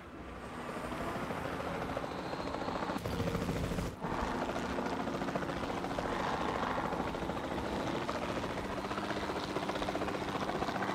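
A helicopter's steady rotor thrum in the game Jurassic World Evolution 2 fills the scene at moderate level, with a sharp break near the start and no talking.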